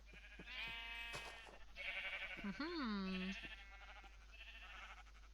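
Sheep in the Minecraft video game bleat, several wavering, nasal calls in the middle of the clip, close and clear, with someone talking over them.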